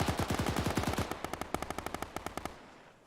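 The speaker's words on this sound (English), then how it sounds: "Can we stop shooting the medium machine gun, please, in the base?" Rapid bursts from a medium machine gun in Arma, fired inside a base, sounding close and loud as a quick rattling string that slows into separate spaced shots before cutting off.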